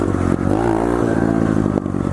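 A motorcycle engine revs hard and continuously during a power wheelie, loud and close, its pitch climbing and holding, with clattering mechanical noise and no talking.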